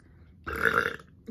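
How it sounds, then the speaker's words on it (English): A single loud, close burp lasting about half a second, rising out of near silence, during a meal of Philly cheesesteak and onion rings. "Uh-oh, I got a burp coming."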